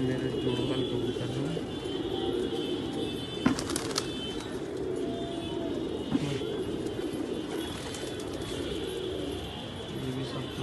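Pairs of pigeons kept by a hobbyist coo softly and steadily in a loft, the low throaty calls continuing under light background noise, with an occasional sharper tap or flutter.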